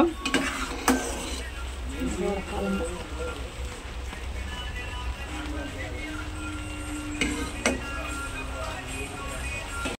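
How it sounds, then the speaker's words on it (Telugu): Bombay rava kesari cooking in a pan, with a soft bubbling sizzle and spoon clinks and scrapes against the metal, partly under a voice talking. "కేసరి అయితే ఎలా ఉడుకుతుందో చూడండి."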